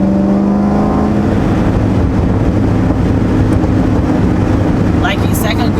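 Homemade cammed Corvette engine on a dyno, a loud, steady, close engine drone held throughout with a faint voice near the end.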